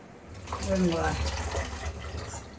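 Water pours off a pot while green peas and elephant foot yam cook for a home-style gravy, a brief splashing flow under a person talking.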